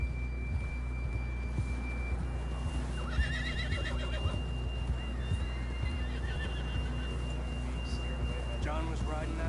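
A horse whinnies in a PS4 game set near Blackwater, its neighs rising over game music, hoofbeats and a steady hum, with voices talking in between.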